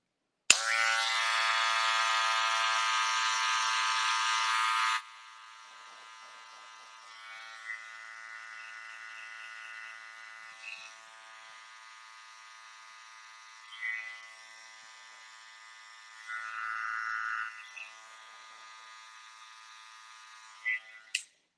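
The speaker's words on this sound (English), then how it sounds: "use the same clipper, lever open, and just create a guide for me right here" Hair clipper with the lever open cutting a men's textured haircut, a loud steady electric buzz for about five seconds, then a quieter hum with brief louder bursts as the blades move through hair.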